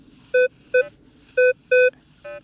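Five short electronic tones pulse from a metal detector in all-metal mode on a farm, in uneven bursts, low buzzy grunts standing out clearly over faint background hiss.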